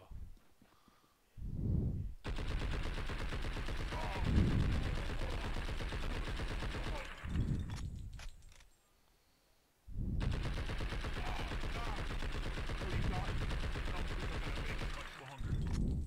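Sustained gunfire in the game Blood and Bacon, long loud continuous volleys broken by brief pauses, with a voice talking over and between the bursts.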